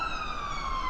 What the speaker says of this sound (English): Every time I do this podcast, there is a siren that goes past.